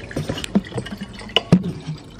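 Coconut water pours and splashes into a glass with soft, irregular gurgles and a few small drips, close and quiet.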